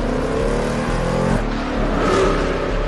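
A Mercedes-Benz 300 SEL with a 6.8 litre V8 and six-speed manual gives a loud, close engine drone, holding a steady tone before the pitch drops and swells again, with no talking.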